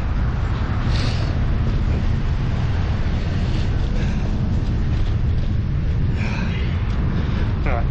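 Strong coastal wind buffets the microphone on a bicycle tour in England, a constant low rumbling gust noise filling the whole stretch, with brief voices and small clicks breaking through.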